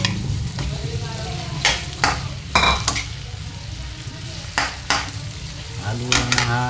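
Squash being stirred in a frying pan with garlic and onion for Bicol express, a steady sizzle under repeated scraping strokes of a spoon against the pan, close and fairly loud.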